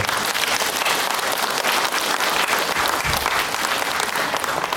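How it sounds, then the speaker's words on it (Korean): A hall audience at a lifelong-learning showcase event claps loudly and continuously. The dense, sustained applause stays steady throughout and nobody speaks over it. "더 큰 박수를 보내주십시오"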